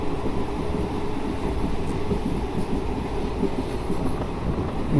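Amaravati Express passenger train running on its Narasapur to Hubli route near Akividu railway station, a steady loud rumble of wheels and carriages rolling continuously without a break.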